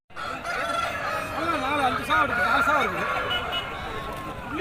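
Roosters crow repeatedly at a busy Saturday rooster market in Konganapuram, Salem district, with loud, close, overlapping wavering calls over constant crowd noise and voices.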